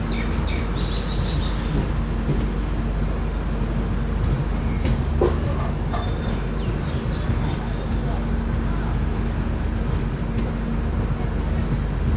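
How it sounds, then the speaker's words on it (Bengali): The Garib Rath Express pulls into rain-soaked Kishanganj station, a continuous rumble and clatter of railcars with occasional bird chirps nearby and a steady mechanical tone underneath. "নির্ধারিত সময় থেকে প্রায় 1 ঘন্টা দেরিতে ট্রেন এসে পৌঁছালো কিষানগঞ্জ।"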